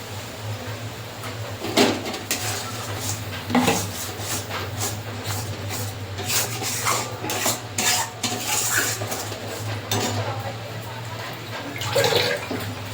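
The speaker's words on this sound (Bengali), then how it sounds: "বাটিটা ধুয়ে একটু জল দেবো" A bowl being rinsed and water poured while cooking daab chingri, with continuous splashing, clinking of metal against the bowl and brisk scraping strokes, close and fairly loud throughout.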